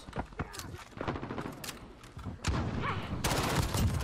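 SMG hip fire in Call of Duty: Modern Warfare comes as rapid bursts of gunfire, sparse at first and then denser, sustained automatic fire toward the end, with game sound effects around it and no talk.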